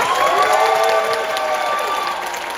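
Loud, dense applause and cheering from a musical theatre audience for the ensemble actors at a curtain-call stage greeting, a continuous roar of clapping with whoops layered on top, steady throughout.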